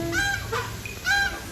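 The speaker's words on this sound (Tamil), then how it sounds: "ஐய் வாத்துரா, ஏய் நம்மள தான் கடிக்க வருதுடா." Waterfowl honking at a resort in Kodaikanal, two loud, nasal honks close by, each a brief harsh blast with a quieter call between them.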